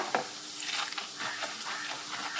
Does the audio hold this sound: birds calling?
no